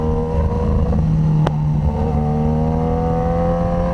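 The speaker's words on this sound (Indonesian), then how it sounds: "Gue di sini cuma mau ngetes motornya seberapa agile sih." A BMW HP4 motorcycle ridden on a public road in Indonesia, its engine a loud, steady drone heard up close with a brief sharp blip partway through, and no talking.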